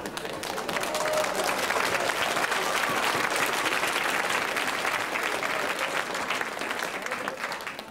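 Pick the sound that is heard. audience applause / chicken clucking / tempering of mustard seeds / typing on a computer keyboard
audience applause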